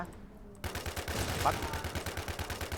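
Rapid automatic gunfire in the shooter game Warz starts abruptly and continues as a dense, rhythmic burst of shots, loud and close, after a quieter moment.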